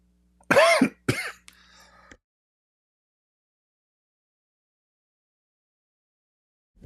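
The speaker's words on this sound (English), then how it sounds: "Sorry, I have to cough." Two sharp, close coughs in quick succession from a man with acid reflux, followed by a brief throaty rasp, then silence.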